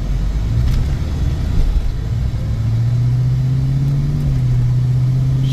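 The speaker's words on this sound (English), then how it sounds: "transmission shifts perfect" A 1986 Ford Mustang Cobra GT with the 5.0 V8 accelerates on a test drive, its engine droning steadily, then rising in pitch with a gear shift partway through, heard from inside the car without talk.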